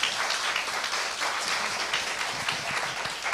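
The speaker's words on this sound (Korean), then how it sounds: "우리 지구촌교회 로뎀 목장을 위해서 우리 감사의 박수 같이 하도록 하겠습니다" A church congregation claps together in thanks after a small-group choir performance at a Sunday worship service, a steady dense patter of many hands filling the room at moderate loudness.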